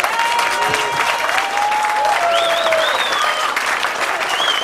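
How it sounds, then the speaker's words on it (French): A crowd applauds the medical staff after a match, with steady, sustained clapping at moderate distance and some whistles and calls rising over it. "vous pouvez les applaudir."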